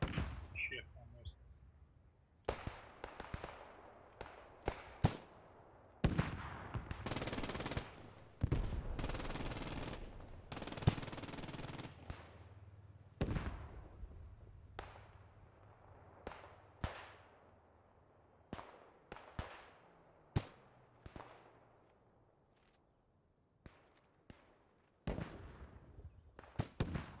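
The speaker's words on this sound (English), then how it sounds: "Artillery on point, watch" Artillery fire in the Post Scriptum war game, a long series of sharp booms and heavy blasts, some clustered in rapid bursts and others spaced apart, with a voice speaking briefly amid the explosions.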